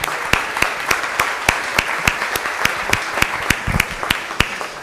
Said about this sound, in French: Si on veut bien applaudir.